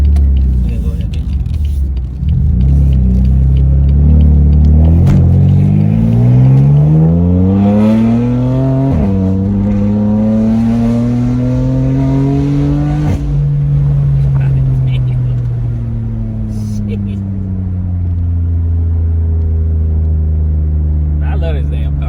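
BMW F80 with VRSF intakes and charge pipes revving loudly up and down through several long sweeps, the engine tone rising and falling, heard close alongside brief talk.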